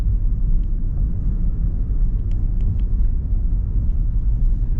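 A car drives along the flat streets of Patong in Phuket, Thailand, heard from inside as a steady, loud low road-and-engine rumble with faint ticks, continuous and without talking.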